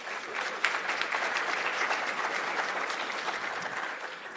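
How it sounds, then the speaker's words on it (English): An audience applauds at an electricity policy colloquium, a sustained patter of clapping from many hands that stays fairly even and moderately loud throughout, with no talking over it. "Clap for that commission led by Commissioner Melissa."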